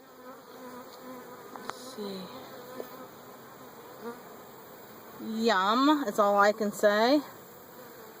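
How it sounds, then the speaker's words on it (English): Honey bees buzzing around a beehive, a continuous close insect drone that persists under a person speaking briefly, with the talk growing louder toward the end. "Bee, get off me."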